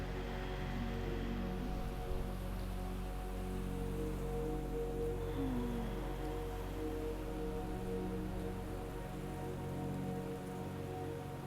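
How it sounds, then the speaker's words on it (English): Steady Hawaiian outdoor breeze fills the background as an even, continuous rushing wash with a patter like rain on a surface, holding at a constant moderate level throughout with no talk. "I hope you can also hear a little bit of the Hawaiian breeze in the background."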